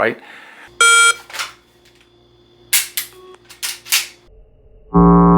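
During pistol draw practice, a shot timer gives a sharp electronic beep, followed by a pause and then several crisp gunshot pops, with another beep at the end and a brief spoken word.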